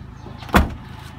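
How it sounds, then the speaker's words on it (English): A door on a 2017 Toyota Avanza shuts with a single close, solid thud over a low, steady engine-like hum. "Close the door."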